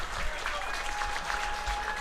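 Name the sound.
round of applause for coaches at baseball game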